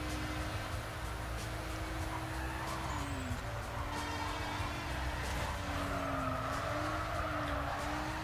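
Race cars in Need for Speed Carbon, a steady, loud engine drone with a shifting pitch as gears change, plus faint tire squeal over continuous road noise.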